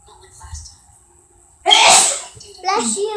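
One loud, sharp sneeze bursts out after a quiet stretch with faint background sounds, followed by a short spoken reply.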